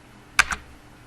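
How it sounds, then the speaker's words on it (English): A single press of the Enter key on a computer keyboard while working in Microsoft Word: one sharp click and its softer release a moment later, close and isolated against a quiet background. "simply hit the Enter key, located towards the middle of the keyboard."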